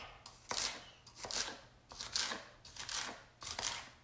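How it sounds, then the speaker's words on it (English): A knife slices through celery on a cutting board in a kitchen, giving about six crisp, evenly spaced cuts, close and fairly quiet, with no talking. "With my celery, what I do is I'll put it in different positions just to get a different cut."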